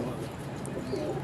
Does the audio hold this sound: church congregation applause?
no